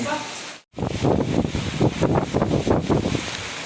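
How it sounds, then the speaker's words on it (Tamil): Strong wind buffets the microphone in loud, gusty bursts after a brief dropout, with a roaring, rushing texture throughout. "பயங்கர காற்று"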